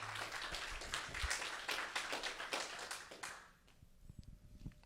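Congregation in a church applauding the Lord after a sermon, a dense burst of clapping for about three seconds that fades out, leaving quiet room noise.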